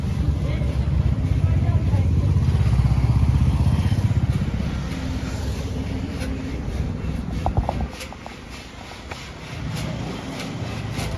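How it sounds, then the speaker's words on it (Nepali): A Vespa scooter engine hums steadily at close range while riding in Pokhara, with road rumble and passing traffic. The motor noise eases in the last few seconds. "स्कुटरमा भेस्पा स्कुटर"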